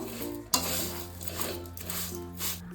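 Anil vermicelli roasting in a little oil, a soft steady sizzle broken by a sharp clink of a utensil against the pan and intermittent stirring scrapes, close and fairly quiet.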